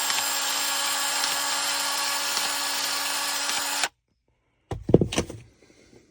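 A PEX expansion tool works a 3/4 inch pipe end in an attic, giving a steady whirring motor hum for several seconds that stops abruptly, followed by a short clack of handling.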